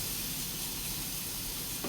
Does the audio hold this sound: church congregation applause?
no